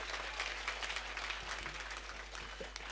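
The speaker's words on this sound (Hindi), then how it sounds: "एक बार जोरदार तालियां बजाइए।" An audience applauds at a Hindi poetry gathering (kavi sammelan), a faint, steady patter of clapping from a crowd throughout, with no voices over it.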